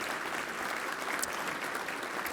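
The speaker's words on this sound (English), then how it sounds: "please give them a round of applause" Audience applause fills a hall at an awards dinner, a steady, dense wash of many hands clapping at moderate distance with no pause.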